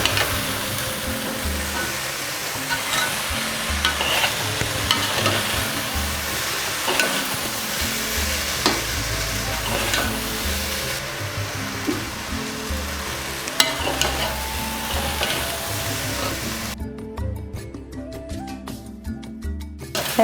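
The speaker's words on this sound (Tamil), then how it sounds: "இந்த அரிசியும் கொஞ்சம் ஒரு 2 நிமிஷம் வறுப்படணுங்க." Rice and shredded cabbage roast in hot oil in a pan for cabbage biryani (kos brinji), a steady sizzle with stirring and scraping throughout, no voices.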